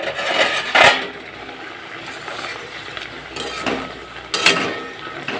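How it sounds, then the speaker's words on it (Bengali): A cooking pot lid is lifted and handled, giving a few sharp metallic clinks and scrapes near the start and again near the end over a low simmering background. "আমি জাস্ট ঢাকনাটা খুলে দেখি কি অবস্থাতে আছে"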